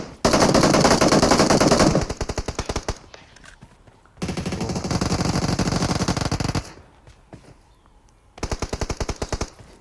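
Loud bursts of automatic gunfire from a P90 in the BGMI mobile battle royale game, rapid rattling volleys separated by quieter gaps, with sniper shots mixed in and no talk.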